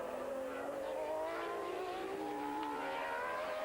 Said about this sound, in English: Alesi picking that Ferrari up by the scruff and neck and just throwing it at the scenery here on this 4-kilometer track